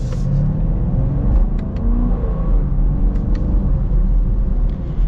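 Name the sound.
2024 Chevy Camaro LT1 V8 engine driving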